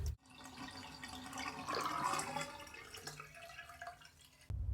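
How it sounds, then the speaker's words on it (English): Engine oil drips and trickles from the drain of an Audi RS3 8Y engine into a pan, a quiet, close, irregular patter with a brief louder splash at the start and end. "Finally down to a drip."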